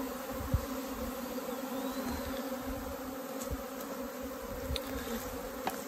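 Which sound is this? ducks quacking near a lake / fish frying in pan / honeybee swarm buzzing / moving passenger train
honeybee swarm buzzing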